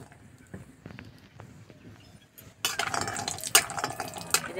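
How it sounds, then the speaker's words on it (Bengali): A wok with oil for frying lentil dumplings gives quiet clinks and knocks at first, then a louder, dense crackling sizzle takes over for the last two seconds, close by, with no talk. "কড়াইতে তেল দিয়ে দেবো,"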